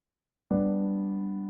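A single soft piano chord is struck after a brief silence and sustains, slowly fading, heard alone.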